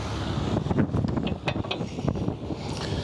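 Tie-down straps being ratcheted tight while securing a parked aircraft, a close run of quick clicking and rattling mechanism sounds with outdoor wind noise behind, no talking.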